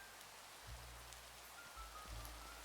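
Rain in the video game Minecraft falls as a faint, steady hiss of drops on surfaces, with soft low thuds underneath and no talk.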